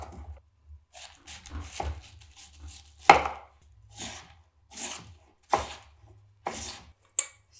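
Purple cabbage being chopped for a salad, a series of sharp knife strikes on a cutting board in an irregular rhythm with pauses between cuts, close and fairly loud, no talking.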